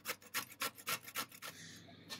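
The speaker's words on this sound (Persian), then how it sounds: "برای سس تارتار نیاز هست که خیارشور رو رنده کنیم" Rhythmic rasping strokes of pickles being grated on a grater, about eight quick scrapes in a steady back-and-forth pattern, close and fairly quiet.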